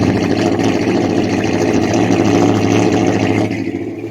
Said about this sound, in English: As you can tell now, the engine is running.